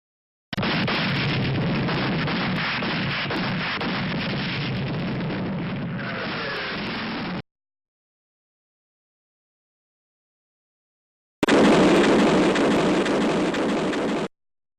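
Artillery fire and explosions on Omaha Beach under German bombardment: a long, loud, dense rumbling roar of blasts and debris lasting several seconds, a pause of silence, then a second sharp, loud burst of explosive noise.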